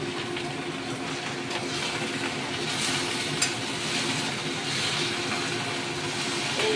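Paath saag (jute leaves) with salt and turmeric is stirred and fried in a pan with a spatula, giving a steady close sizzle with light scraping throughout and no talk.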